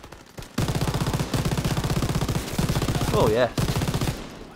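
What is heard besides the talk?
gunfire from a machine gun in the video game Call of Duty WWII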